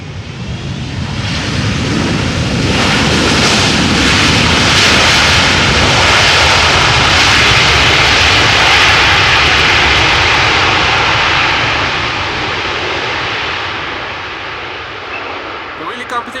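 An airliner lands at Amsterdam Schiphol and roars loudly under reverse thrust, a broad, sustained jet rush that swells and then slowly fades toward the end.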